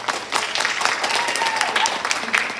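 An audience applauds steadily at a school honor roll ceremony, with a fairly even wash of clapping throughout and some voices mixed in.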